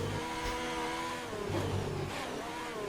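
A Ferrari Formula 1 car in a racing video game, heard from the onboard camera in wet conditions: a mid-pitched engine note that revs, drops and climbs again as it shifts, moderately loud and continuous, no talk.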